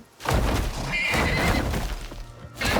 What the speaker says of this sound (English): it'll neigh at me